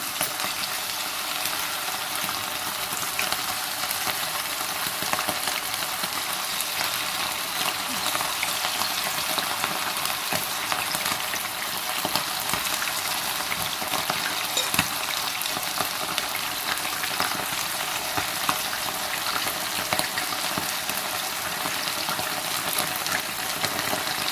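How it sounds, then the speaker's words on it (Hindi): Chicken frying gently in a pan over a low flame gives a steady, even sizzle that runs unbroken throughout, with a few faint clicks and no talking. "हमारी कोशिश यही है कि एक ही में हम चिकन को फ्राई कर लें"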